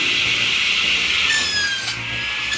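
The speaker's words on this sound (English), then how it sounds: "This electric firewood saw is your answer." A 2,600-watt electric firewood saw with a carbide disc cuts through a log, a loud, steady, close grinding whine whose pitch slides downward as the blade bites into the wood.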